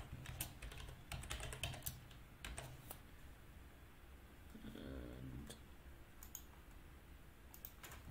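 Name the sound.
typing a password on a computer keyboard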